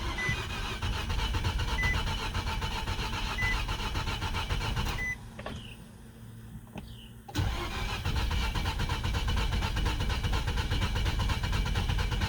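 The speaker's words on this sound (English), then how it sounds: "Let's go ahead and see if it'll fire back up" Overheated car engine cranked and restarted, a loud, close, continuous engine drone that cuts out for about two seconds mid-clip with faint clicks, then catches and runs steadily again.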